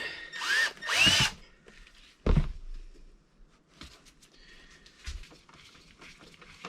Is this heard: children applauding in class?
no